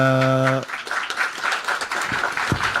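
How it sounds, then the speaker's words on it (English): Applause from a conference audience at a logistics and supply chain conclave, a short steady burst of many hands clapping that follows a sustained tone and runs on under a speaker's voice. "The claps are actually for the backbenchers"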